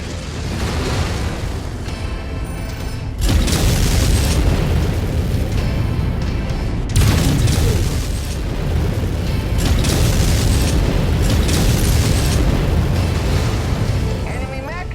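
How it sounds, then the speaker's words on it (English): Heavy booming explosions from an enemy mech being destroyed in MechWarrior 5 Mercenaries, with deep rumbling blasts that swell and repeat over several seconds, loud and dense, with game sounds layered underneath. "Enemy mech destroyed."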